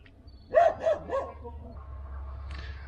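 A dog in the countryside gives a few quick barks close by, three short bursts over a low rural rumble, then only background noise remains.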